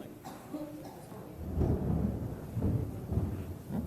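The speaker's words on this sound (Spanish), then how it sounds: "ahora que está tronando" Rolling thunder from a storm rumbles low and deep, swelling after a quieter start and continuing in heavy, uneven waves, with faint rain hiss in the background and no voices.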